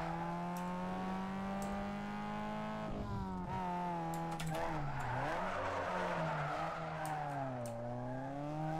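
Game car engine in Need For Speed Underground 2 droning and shifting pitch as it revs and slides, with tire squeal and skidding noise building toward the middle and continuing to the end.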